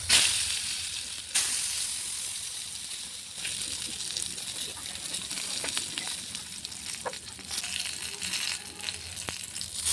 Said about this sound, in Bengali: এই তেলের মধ্যে আমি বেগুনগুলোও ভেজে নেব।